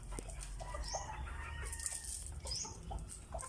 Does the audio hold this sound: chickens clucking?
yes